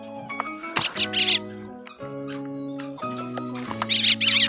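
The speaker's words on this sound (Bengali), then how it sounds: "পাখির বাচ্চা মনে হচ্ছে না শালিক পাখির বাচ্চা" High, thin chirps from a myna chick come in repeated bursts, loud and close, over a steady low background hum.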